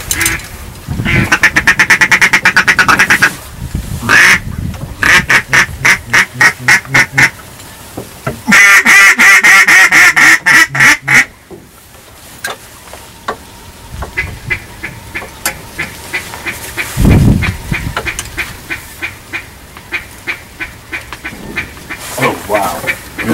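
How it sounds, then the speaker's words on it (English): Ducks quack loudly and close by during a wood duck hunt, in rapid repeated bursts that come and go across the whole stretch, with brief gaps of quieter calling in between. "Here they come. You gonna kill him? There's a drake."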